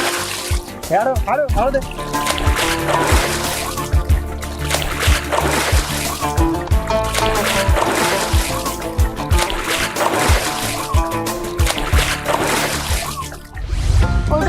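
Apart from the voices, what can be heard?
water splashing as someone is dunked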